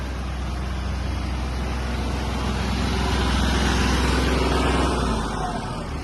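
A Kubota GL-23 Japanese mini tractor engine runs steadily at about 1500 rpm with its tiller working passively, giving a loud, continuous drone that stays even for the whole stretch.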